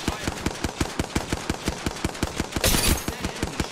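Rapid automatic gunfire in Apex Legends, a steady string of sharp even shots at close range, broken briefly by a louder burst near the end.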